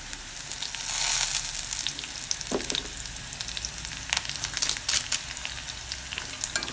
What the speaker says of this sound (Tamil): வெங்காயம் போட்டு வதக்குறேன்